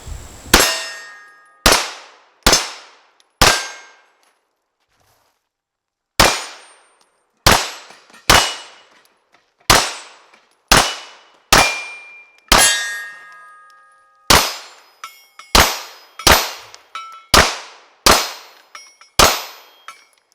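A Glock 17 pistol fires repeatedly at steel targets during handgun training, each loud report ringing with a metallic clang; about eighteen shots come in uneven strings, with one longer pause early on and no talk.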